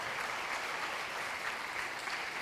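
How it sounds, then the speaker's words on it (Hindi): Audience applause at a Ramadan iftar gathering, a continuous even wash of many hands clapping, quiet and somewhat distant, without pauses. "इनके लिए बहुत सारी तालियां होनी चाहिए"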